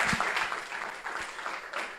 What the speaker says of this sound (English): Applause for the person who led this in 2010.